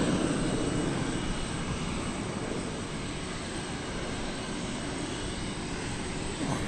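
An American Airlines Boeing 737-800 jet at DFW Airport gives off a steady, broadband engine roar that holds fairly constant throughout, moderately distant, with no talk over it.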